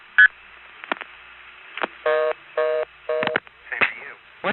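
An NX1 long-distance test board sounds a string of telephone test-dialing tones: short beeps, then several steady multi-tone bursts in an uneven rhythm, clear and close.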